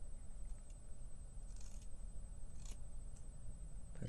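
A few quick, crisp snips of scissors cutting hair, spaced irregularly against a quiet low rumble, close to the microphone.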